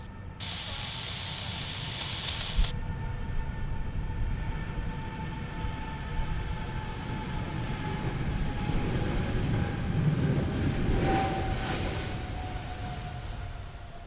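An airliner takes off from a runway at Sydney Airport, heard as a broad, continuous jet roar at a distance that swells slightly toward the end, with a thin steady tone at the start and no talking.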